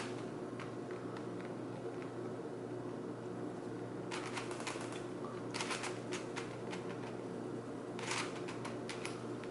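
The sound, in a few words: turning a Curvy Copter twisty puzzle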